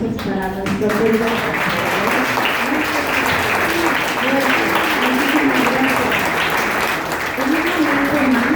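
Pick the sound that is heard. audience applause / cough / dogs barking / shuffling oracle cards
audience applause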